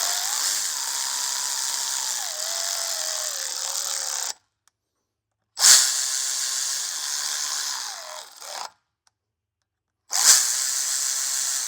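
Power tool tightening bolts on factory automatic hubs of a Dana 50 or Dana 60 axle on an OBS Ford, three loud, close, high whirring runs separated by short silences, with no talk.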